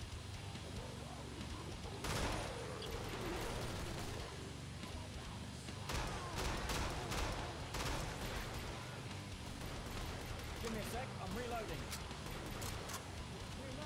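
Gunfire in the co-op shooter game Killing Floor: repeated bursts of shots and impacts spread across the clip amid noisy game action, with a player's voice talking over it throughout.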